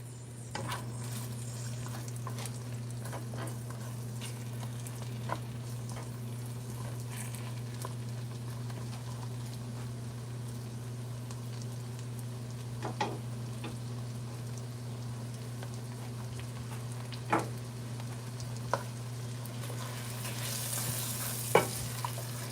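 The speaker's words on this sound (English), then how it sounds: "after stir frying your curry, veggies and all that stuff for about a minute" Curry vegetables stir-frying in a pan for curry lobster, a steady close sizzle with a constant low hum underneath and occasional clinks and scrapes of a utensil, no talking.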